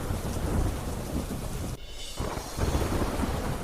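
Heavy rain pours steadily in Mecca, Saudi Arabia, with loud thunder rumbling through the downpour; a brief dip in the middle, then the dense rain and thunder return, with no voices.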